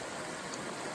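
A waterfall pours into a pool below it, a dense, even rush of falling water heard up close with no break, outdoors in the woods.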